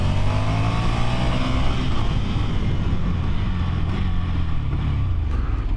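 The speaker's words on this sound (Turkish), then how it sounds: "motoru yatırıyoruz ve gaz açıyoruz hemen" Motorcycle engine held at steady throttle while leaning into a bend, a continuous loud droning roar with a slight rise in pitch, heard close from onboard with wind noise.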